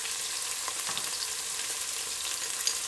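Turmeric, red chilli powder, crushed chilli and carom seeds sizzling loudly in a pan for Punjabi kadhi pakora, a dense continuous crackle with faint scattered stirring taps.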